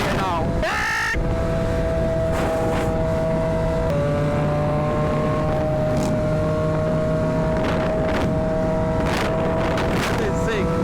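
A Triumph Daytona 765 sports motorcycle's engine drones steadily under heavy wind roar while riding a wheelie, with the pitch shifting as the throttle changes.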